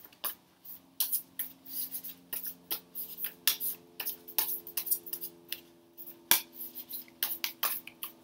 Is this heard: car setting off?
no